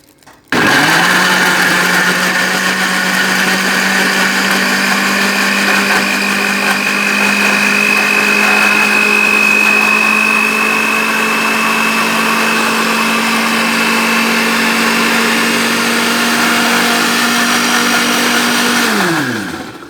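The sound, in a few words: blender blending peaches and water for juice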